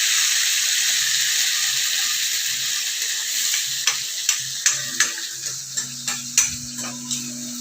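Garlic and ginger paste sautéing in a pan for chole, with a steady broadband sizzle throughout and a series of sharp stirring scrapes and taps toward the end, with no talking.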